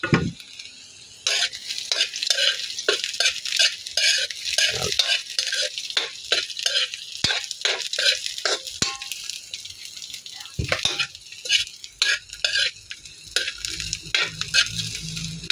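Shrimp and vegetables sautéing for pinakbet in a pan, with loud steady sizzling broken by repeated scraping stir strokes of a utensil, close up.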